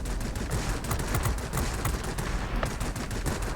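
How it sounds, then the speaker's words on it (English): The 23mm aircraft cannons of a Yak-19 jet fire in World of Warplanes in a continuous rapid stream of bursts, dense and steady throughout, heard at moderate loudness. "Hello, 23mm cannons."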